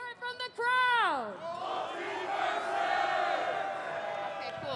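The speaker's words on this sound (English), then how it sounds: "Let me hear it from the crowd." An esports tournament crowd at a fighting-game event cheers and yells loudly after a brief spoken prompt, a sustained roar of many voices that swells and then holds steady for several seconds.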